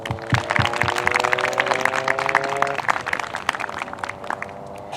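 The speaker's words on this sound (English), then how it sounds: "And a big round of applause." Audience applause at a 4-H achievement celebration, a steady bed of many hands clapping with sharp individual claps, joined early on by a sustained musical tone.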